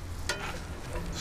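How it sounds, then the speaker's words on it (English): Brief, faint scrape of a spoon stirring sauce into sizzling pork and chicken for lettuce wraps, with a soft clink near the start over a low, steady fry. "Stir that up."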